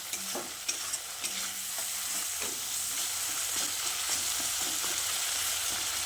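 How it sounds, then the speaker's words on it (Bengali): Soft tomatoes frying with spices while a spatula stirs and chops at them in the pan, a continuous loud sizzle with a string of scraping, tapping strokes, no voices. "এবার মশলাগুলো দিয়ে টমেটোর সঙ্গে আরও কিছুক্ষণ ভেজে নিচ্ছি।"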